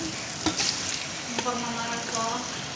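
Pancit bihon rice noodles with liver being stir-fried, producing a loud, close sizzle with spatula stirring scrapes and a few clinks, no voices.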